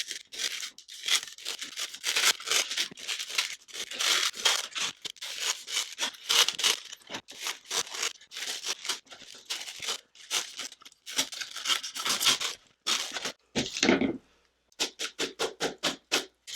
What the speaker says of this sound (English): this can be kind of a hassle to cut, so just have a nice sharp knife